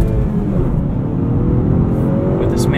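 A 2019 Honda Accord 2.0T Sport with a six-speed manual accelerating hard: a loud, steady engine drone heard from inside the cabin throughout.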